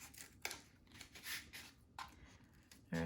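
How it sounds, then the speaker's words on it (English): Scissors cut along a curved line in paper during a children's craft, giving a few quiet, separate snips and crisp rustles spaced irregularly with pauses between. "you're gonna take your scissors and on one end you're gonna cut on that curved line you made here"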